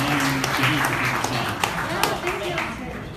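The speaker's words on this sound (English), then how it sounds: "One more round of applause." A live audience at a travel industry summit in New York City claps and applauds steadily, a dense wash of hand claps with a few sharper slaps, mixed with voices and some talking over the top.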